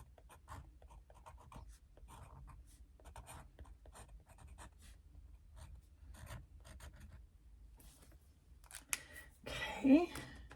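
A pencil scratches on paper in short, close strokes that come and go in bursts under intermittent quiet talking, ending with a sharper rustle and rub.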